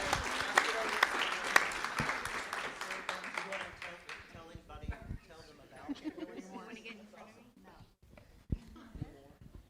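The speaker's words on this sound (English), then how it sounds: "Let's give Lisa a round of applause" Scattered applause at a school district board of trustees meeting, strongest in the first few seconds and thinning into sparse claps, while people talk over and after it.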